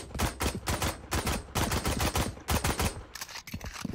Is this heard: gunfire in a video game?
yes